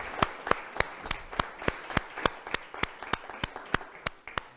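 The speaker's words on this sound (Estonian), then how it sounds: "ka nendele teeks väikse aplausi" A small group of hikers at a hiking gathering claps in a steady, even rhythm of sharp hand claps, fairly close, with no talking.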